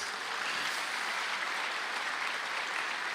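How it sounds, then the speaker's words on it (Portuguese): A church congregation applauds during an evangelical sermon, a steady, dense wash of clapping that fills the whole stretch without letup, with no voices above it. "Aplauda o Senhor"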